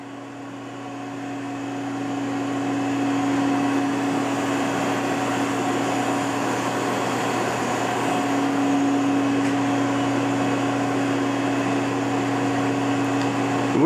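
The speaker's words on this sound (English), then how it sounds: "So this is the machine in the calibration process." Hurco KM3-P CNC knee mill running its calibration process, a steady mechanical hum with a constant motor tone that swells slightly and holds for several seconds, moderately loud, with no voices.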